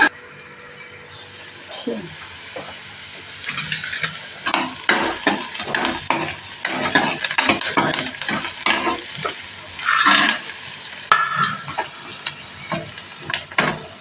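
Onions frying in a pan while making a Punjabi vadiyan (sun-dried lentil dumpling) vegetable dish, with steady sizzling and repeated stirring scrapes throughout, fairly close, with a brief pause near the start.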